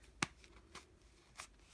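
Three short, crisp snips of scissors cutting thread for a tassel, spaced apart, quiet and close, with faint rustling between them.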